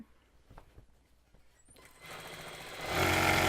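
A sewing machine starts stitching a pillowcase seam after a few quiet handling taps, its whirring motor building up to a steady, louder hum toward the end.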